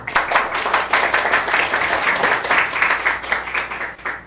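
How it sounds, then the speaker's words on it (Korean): Loud, close audience applause welcoming a physical therapist lecturer at a low-back-pain forum in Daejeon, dense rapid clapping sustained evenly and then tapering off near the end. "박수로 소개 듣겠습니다"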